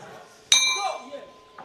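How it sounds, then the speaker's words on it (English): A final bell rings once at a 67kg men's boxing bout at a world championships, a loud metallic clang with ringing overtones that decays over about a second, followed by a faint second tap. "And there goes the final bell."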